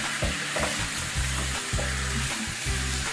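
Three chicken thighs sizzle and crackle in a pan, with steady frying hiss and repeated stirring scrapes at a close, even level.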